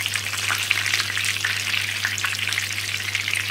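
Breaded Polish pork cutlet (schabowy) frying in a pan, a dense continuous sizzle with fine crackles, steady and close, with no talking.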